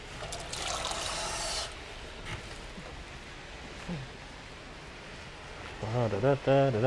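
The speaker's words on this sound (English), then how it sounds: "Maybe get a little water. Pour in there." Water trickles briefly into a pot of chana masala with sweet potatoes as it is cooked into a stew, a soft splashing pour at the start, then a quieter stretch before a person begins speaking near the end.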